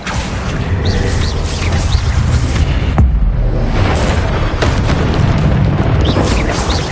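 Confringo fire spell blasting in Hogwarts Legacy, a loud, dense roar of explosive booms and crackling debris that fills the whole stretch, briefly dipping at the third second before surging again, close and overwhelming.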